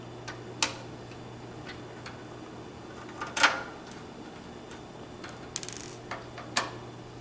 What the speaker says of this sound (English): Take your T8 driver and just remove those screws.